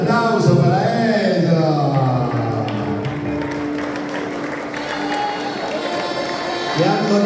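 Guests at a family Santa Cecilia festivity applaud, a continuous wash of clapping running beneath loud speech and background music for several seconds.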